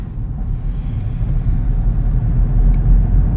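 A car engine idling smoothly and quietly, close by, with an almost electric-sounding low, even rumble that holds steady without revs or other sounds.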